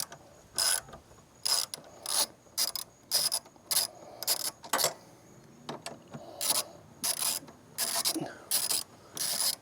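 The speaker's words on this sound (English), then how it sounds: "we're going to take this bolt out here as well as the bolt behind it on the other side. This is going to be a 12mm socket." Ratchet with a 12mm socket backing out a bolt on a Honda GoldWing GL1800, close clicking bursts in a steady back-and-forth rhythm repeated about a dozen times.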